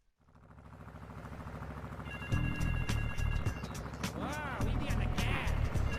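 A telephone rings in Grand Theft Auto III, a steady repeated electronic bell over a low engine-like rumble that gets louder partway through, with no voices.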